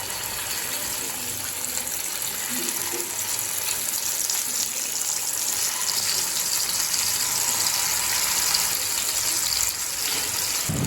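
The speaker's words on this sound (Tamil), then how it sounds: "இப்போ சிக்கனை ஃப்ரை பண்ண ஆரம்பிச்சிடலாம்." Chicken leg pieces fry in a cast iron pan with a steady, dense hiss and sizzle, close and continuous throughout with no talk.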